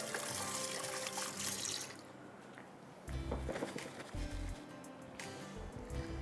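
Running tap water pours steadily as hands are washed under it at a kitchen sink, the flow loud and continuous near the front with brief breaks and splashes as hands move beneath the stream.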